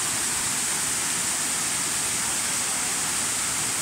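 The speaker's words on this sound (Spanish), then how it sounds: "Aquí estamos en la naciente del río" Spring water wells up at the source of the Atillo River on a farm, making a loud, steady, unbroken rush of flowing water close by with no voices.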